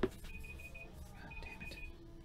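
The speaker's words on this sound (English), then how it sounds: "that was the timer here that I had accidentally set" A timer alarm sounds in two short stretches of rapid high beeping, fairly faint against a low background hum, with a brief knock at the very start.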